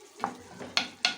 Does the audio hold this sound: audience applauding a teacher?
no